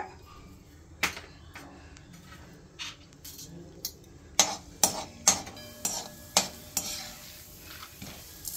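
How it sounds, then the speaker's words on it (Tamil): Chana dal dropped into hot oil crackles and sizzles up close, with sharp clinks and scrapes of a spoon against the pan in a string of bursts. "அந்த எண்ணெய் காஞ்சோன்னா நம்ம எல்லாத்தையும் போடணுமா? போடணும். ஃபர்ஸ்ட் கடலைப்பருப்பு போட்டுக்கோங்க."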